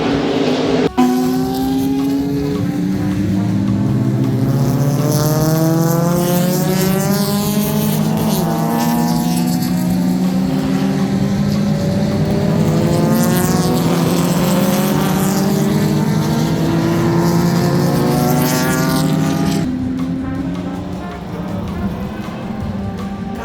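Historic stock cars race past on the Road Atlanta circuit, several loud engines roaring with rising and falling pitch as they sweep by one after another, a continuous near, powerful drone that cuts off abruptly near the end.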